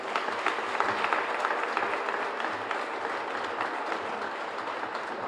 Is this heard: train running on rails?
no